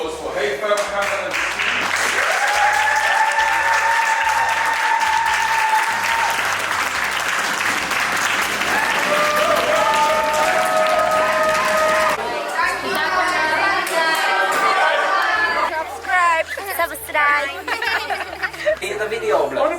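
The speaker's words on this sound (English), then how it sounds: "I want a massive round of applause for Haifa Mohammed." A crowd claps loudly and steadily for a long stretch at a charity event in Jordan, the applause dense and close, with voices chattering over it and lively talk taking over near the end.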